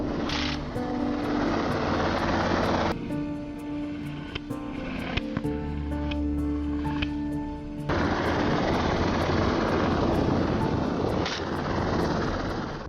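A helicopter flies during a hog-hunting operation, its rotor drone loud and continuous with rapid regular blade chop, sometimes shifting in tone as it passes, with no voices heard.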